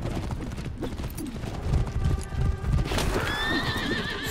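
A horse in the video game For Honor gallops with steady clip-clopping hooves, then lets out a loud neigh near the end, over busy game sound effects.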